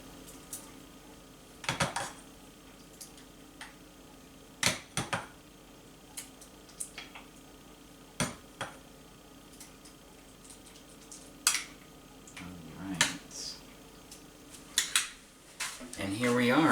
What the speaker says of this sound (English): I've got my bowl out, and I'm just going to go ahead and spoon some of this up.